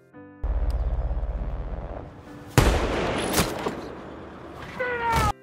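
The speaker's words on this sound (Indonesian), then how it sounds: "Mustafa yang berada di arah timur berhasil menembak mati satu tentara Amerika." Gunfire from the American Sniper film soundtrack: a sharp blast and a second crack cutting through a rumbling, buzzing combat ambience, followed by whistling, ricochet-like tones and a swelling noisy rush.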